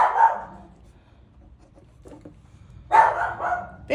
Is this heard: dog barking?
yes